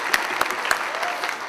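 A church congregation claps in welcome for visiting school students, teachers and parents, a close, dense burst of applause with a few sharper individual claps standing out.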